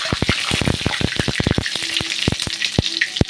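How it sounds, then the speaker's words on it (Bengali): Bay leaf, whole cumin, dried chillies and whole garam masala hit hot oil in a pan, crackling and popping in rapid irregular bursts over a steady sizzle, close and loud with no talking. "আর এই যে ফোড়নে দেব তেজপাতা, গোটা জিরে, শুকনো লঙ্কা, গোটা গরম মশলা। তেলটা আমার গরম হয়ে গেছে।"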